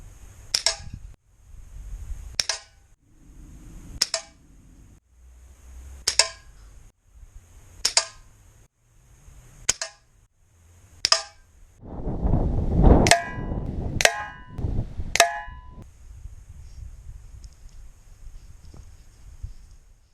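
Genesis Air Logic .22 single-stroke pneumatic air rifle with a leaking valve firing at a target, giving sharp, close, isolated cracks spaced a few seconds apart, about ten shots, with a louder rustle between them.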